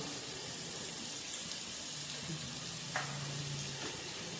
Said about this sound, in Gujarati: અને હવે આપણે આને પાછો મસ્ત હલાવીશું